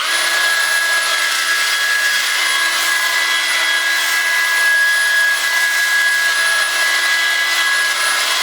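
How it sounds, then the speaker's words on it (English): Concrete countertop polisher spinning grit pads over a concrete surface, a steady close whine with a high, sustained tone that runs on evenly without pause and no voices. "as I change out pads and go to increasingly higher grits, smoother, I'll also be increasing the speed."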